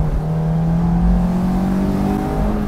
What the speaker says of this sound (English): So this car can really scream